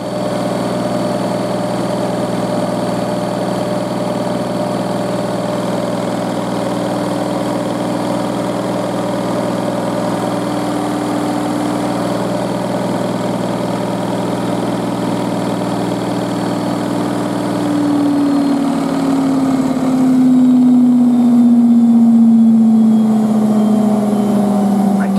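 A Hotpoint WM63 washing machine spins at 1200 rpm with a loud, steady mechanical hum and whine that rises in pitch near the end as the drum speeds up, with no voices over it.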